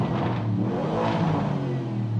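A Lamborghini Urus with the Nero design pack revving in Corsa mode, a loud, continuous engine roar that swells and eases slightly, heard up close with no one talking.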